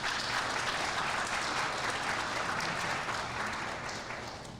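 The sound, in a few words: audience applause for Lynette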